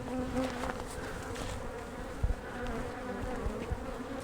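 Honey bees buzz steadily during a hive split inspection, a dense close swarm drone with a few soft knocks and handling sounds, faint throughout and without speech.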